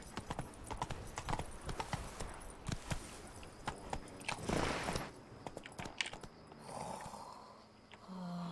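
Horse hooves clip-clopping at a steady walking gait in The Witcher 3, close and prominent, with occasional jangling tack and other game ambience.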